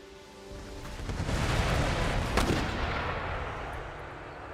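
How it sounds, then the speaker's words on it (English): Rockets fired during an Empire Total War battle launch and burst in a swelling, roaring barrage of booms and whooshing blasts, loud and rumbling before fading out. "Rockets away."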